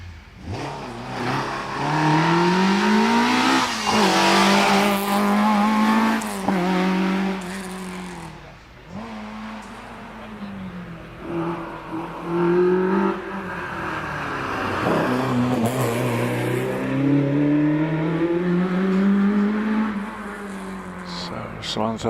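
A Peugeot 205 rally car revs hard and pulls away up the Prescott hillclimb, its engine climbing and dropping through repeated gear changes at close range, with a commentator's voice faintly underneath.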